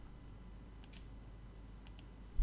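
Faint, close computer mouse clicks during SolidWorks modelling, two quick pairs of light clicks over a quiet background hum, with no voice.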